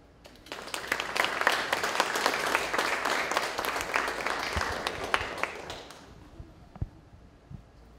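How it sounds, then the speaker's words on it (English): An audience at student interactive media project presentations breaks into a round of applause, a dense burst of clapping that swells for several seconds and then tapers off to a few scattered claps. "I'm just going to give everybody that presented just one round of applause"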